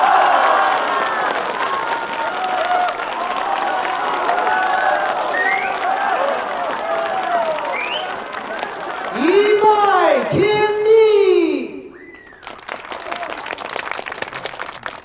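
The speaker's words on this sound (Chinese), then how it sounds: "让我们以热烈的掌声欢迎新郎王亲来，新娘何幸福 入场。" A crowd at a wedding claps and cheers to welcome the bride and groom as they enter, with sustained applause beneath talking voices that then gives way to speech.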